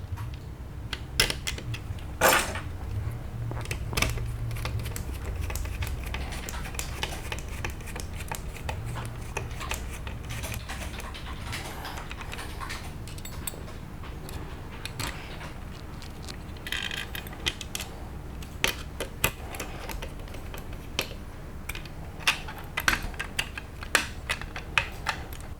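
Small screws are driven into the plastic parts of a Tamiya Frog model kit, producing light, close scratchy clicks, ticks and handling rustles that come in irregular bursts against a quiet room background.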